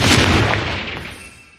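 A Confringo blasting spell explodes in the video game Hogwarts Legacy, one loud, broad boom that decays smoothly over about a second and a half, alone with no talk.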